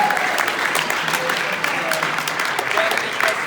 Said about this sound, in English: Another big round of applause for both of our speakers.